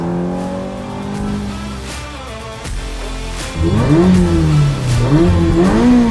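A Ferrari V8 engine revs and drops, then roars louder with rising and falling pitch sweeps, close and powerful, with no talking.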